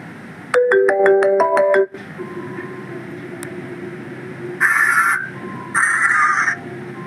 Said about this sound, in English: The landline is ringing.